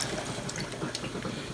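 Pineapple juice poured into a cooking pot of Filipino pork ribs caldereta, a steady liquid splashing and gushing sound, close and continuous for a moment.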